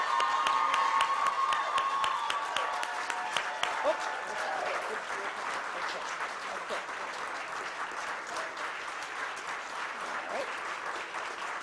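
A large audience gives a round of applause for award recipients at a Black History Month celebration ceremony, steady dense clapping throughout with a few brief words spoken over it.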